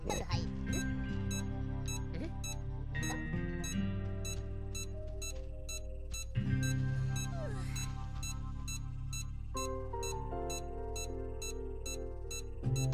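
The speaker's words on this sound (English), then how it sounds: "Crying out loud, that's a very fast beep." Rapid, evenly spaced electronic beeps from the Supraland video game repeat throughout, fast and steady, over background game music and tones, with a person talking during parts of it.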